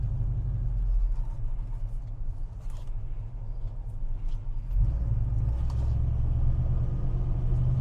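A 1970 Chevrolet El Camino with a 350 V8 drives down a street, heard from inside as a steady low engine rumble with some creaks and road noise, and the engine swells slightly partway through.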